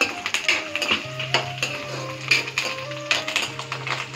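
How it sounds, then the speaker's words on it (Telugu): Dried red chillies and curry leaves temper in oil in a pan, a light sizzle under repeated scraping and tapping of a spoon against the metal pan, close and moderately loud. "సో ఈ తాలింపు వేగుతూ ఉండగా ఇందులో మనం పసుపు"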